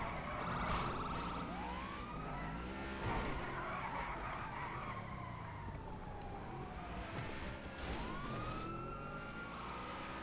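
A police car chases with a wailing siren in the video game GTA V, rising and falling siren sweeps over engine roar and tire skids, continuous and fairly loud.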